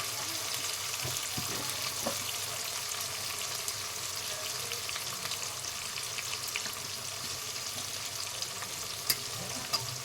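Onions frying in a pan with a pinch of salt for chicken biryani, a continuous soft sizzle and crackle that stays even and fairly quiet, with occasional faint scrapes of stirring.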